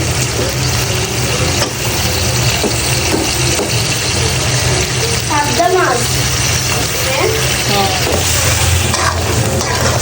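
Magur fish dropped into spiced masala frying in a pan, giving a steady loud sizzle and bubbling hiss with occasional stirring scrapes, while someone talks over it.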